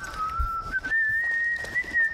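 A single sustained whistled tone with a slight upward glide, played close and clear in the video game The Last of Us: Left Behind, with no other sound around it.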